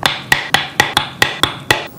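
Eight sharp, evenly spaced taps of a punch striking stitching holes through a leather watch strap, each a crisp metallic knock with a short ring, close up and fairly loud.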